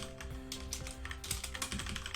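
Rapid keystrokes on a computer keyboard, tapping in quick irregular bursts at close range over a steady low background hum, with no voices.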